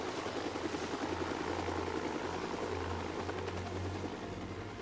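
A medical rescue helicopter lifts off, its rotor and engine roar holding steady and loud with a throbbing low pulse throughout, no voices heard.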